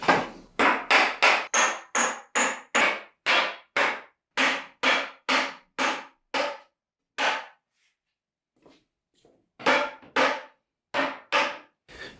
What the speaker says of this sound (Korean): 평평한 바닥에 눕혀놓고 망치로 두드리면서 연결을 해주면 됩니다